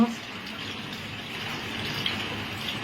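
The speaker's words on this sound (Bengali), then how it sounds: "মাছটা ধুচ্ছি" A fish being rinsed under a running tap, a steady soft gush of water splashing continuously at moderate distance, with light handling noises.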